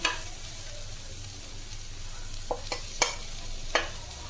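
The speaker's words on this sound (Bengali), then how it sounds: "আমি আরও কিছুক্ষণ এটাকে এইভাবে নেড়ে নেড়ে পুরো ভাজাটাকে নরম করে নেব।" Malabar spinach seeds and potatoes with turmeric frying in a pan, stirred with a steady low sizzle and a few sharp scraping clicks of the spatula against the pan.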